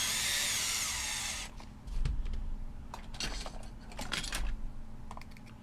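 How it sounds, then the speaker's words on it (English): A cordless screwdriver drives screws into a Team Associated RC10CC kit: a brief high whine of the motor at the start, then a series of close clicks and rattles of parts and screws being handled. "I'm not tightening these down all the way with this cordless screwdriver. I'm just kind of getting them started."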